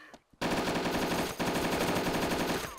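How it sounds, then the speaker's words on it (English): Sustained automatic gunfire from a firearm in the survival video game DayZ, a dense rapid burst of shots after a brief quiet start, loud and continuous with one short gap, no talking. "Waiting for the barrage of gunfire."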